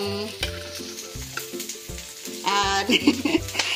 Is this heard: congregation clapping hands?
no